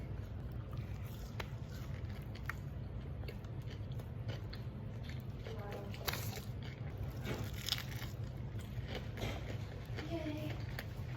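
Someone eating a Kincaid's junior burger with pickles, lettuce and tomato, plus massive onion rings. Close, quiet bites and chewing with occasional soft crunches repeat at irregular intervals over faint background noise.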